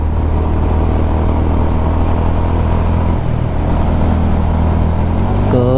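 Honda CB350 RS motorcycle accelerating in third gear, a loud, steady engine drone with dense wind rush, close and continuous, with a slight dip partway before the pull resumes.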